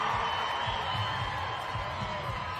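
A home crowd at an under-23 men's individual time trial start in Rwanda makes a steady roar with whoops and cheers mixed in, and a commentator talks over it.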